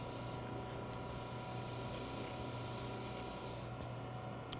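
A wooden Christmas ornament spins on a lathe while being sanded up to 600 grit, a steady close rushing hiss of abrasive on wood over the machine's low hum, continuous with no pauses.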